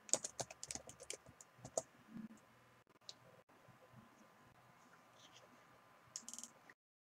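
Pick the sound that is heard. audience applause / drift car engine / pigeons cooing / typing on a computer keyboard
typing on a computer keyboard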